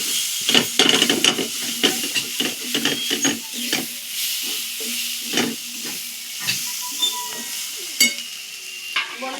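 A spoon stirs and scrapes ground coriander and cumin into a fish chop filling in a pan, with irregular clinks and scrapes over a soft steady sizzle, close by.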